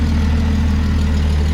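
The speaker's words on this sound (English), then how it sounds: "I do hear an exhaust leak over here." A 1995 Jeep Wrangler with the 4.0 engine idles steadily and loudly up close, a deep continuous rumble with a faint ticking puff from an exhaust leak riding over it.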